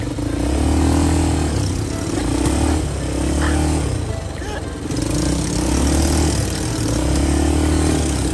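ATV engines drone loudly and steadily on a dirt trail ride near Mayon volcano, with rising and falling throttle surges close by, and the motor noise fills the whole stretch.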